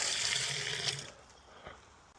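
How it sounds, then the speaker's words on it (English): Water gushes into a fence post hole being dug for a DIY chicken run, a rushing splash that stops after about a second and leaves faint trickling behind. "I'll put some water in there."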